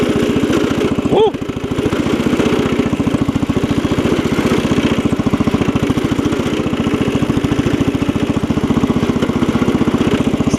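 A classic Cub Cadet 70 garden tractor engine runs loudly and steadily while driving in third gear, a close, continuous rhythmic thrum with a brief dip early on.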